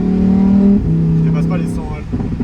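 A Lamborghini Huracan engine at low road speed, a loud close drone whose pitch steps down partway through, heard under people talking.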